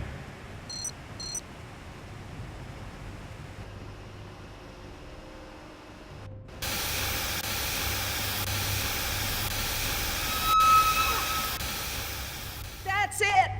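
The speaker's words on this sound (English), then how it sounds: "The steam has been vented." Steam vents in the Telltale Jurassic Park video game: after a quieter stretch with a few early beeps, a sudden broad hiss bursts in midway and keeps rushing steadily and loudly to the end.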